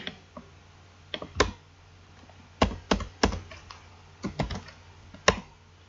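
Scattered keystrokes on a computer keyboard, clicking in short irregular bursts of two or three taps with pauses between, close and clear in a quiet room.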